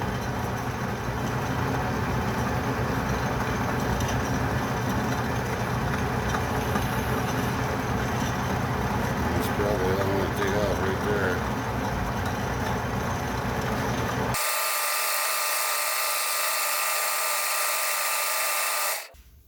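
An Atlas 10-D metal lathe turns aluminum at high speed, giving a loud, steady mechanical whir and hum that runs without a break for most of the clip, then cuts off abruptly near the end.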